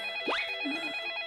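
A telephone rings once in a Plants vs Zombies fan animation, a rising electronic chirp followed by a softer low tone, with a steady high tone humming throughout and no talking.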